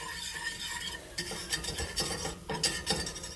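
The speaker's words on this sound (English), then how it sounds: "We're just going to go ahead and whisk this around for a moment." A butter and flour roux is whisked in a pan, with quick rhythmic metallic scraping strokes that come in close, fairly quiet bursts over a soft background.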